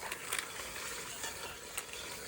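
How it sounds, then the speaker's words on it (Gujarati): Garlic paste fries in a pan while being stirred, making a close, steady sizzle with occasional scraping strokes from the spoon. The sound is soft and even, and no one talks. "લસણ પેસ્ટ હલાવજો અમારે મિક્સ થઈ જવું જોઈએ અમારે"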